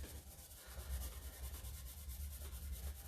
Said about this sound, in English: I'm going to come back with my Dixie Belle finishing pad. And I just rub over all of my transfer